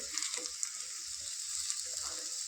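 Chapati sandwiches fry in oil on a hot tava over a low flame, giving a soft, even sizzling hiss with faint kitchen clatter underneath.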